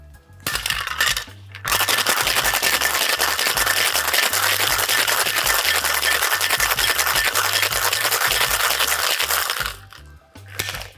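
Ice rattling hard inside a cocktail shaker as a tequila cocktail is mixed, a brisk, steady rhythmic clatter that runs loud and close for about nine seconds before stopping, with no talking over it.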